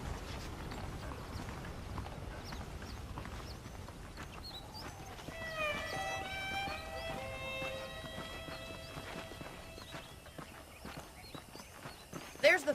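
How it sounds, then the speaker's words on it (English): Horse hooves clip-clop at a steady walking rhythm in the Red Dead Redemption video game, faint and low beneath a voice talking, with a brief louder clatter at the end. "The horses are saddled up over here."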